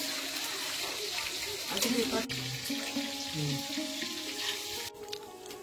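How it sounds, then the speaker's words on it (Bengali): Young jackfruit (enchor) fries in a pan in a home kitchen, giving a steady, moderate sizzle with faint watery bubbling while people talk in the background. "ওই যে এখন হচ্ছে এঁচোড় ভাজা"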